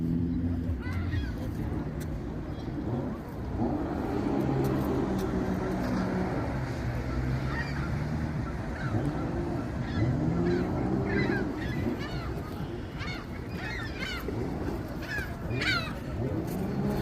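Geese honk repeatedly at a lakeside park in Toronto on a late afternoon, their calls mixed into a steady wash of outdoor background noise along with other birds, while a person talks.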